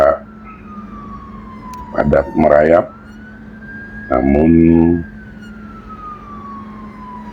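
An ambulance siren wails steadily through heavy, crawling traffic on an inner-city toll road, its pitch sliding slowly throughout, while someone speaks in two short bursts over it.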